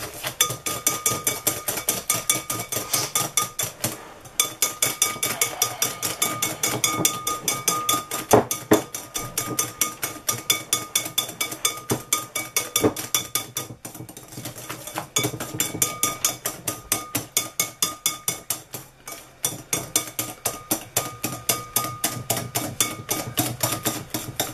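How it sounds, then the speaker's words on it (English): A small hand whisk beats oatmeal and raisin cookie mixture in a bowl, producing rapid, steady rattling clicks against the bowl's sides that pause briefly a few times before resuming. "Just going to get a little hand whisk just to whisk this mixture up, just to make it a bit fluffy."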